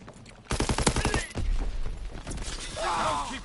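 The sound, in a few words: gunfire in Call of Duty WWII multiplayer, video game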